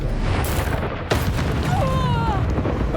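A Confringo blasting curse goes off in Hogwarts Legacy, a sudden booming blast about a second in that rises out of dense, continuous game noise, with a rumbling tail and a few whistling tones after it.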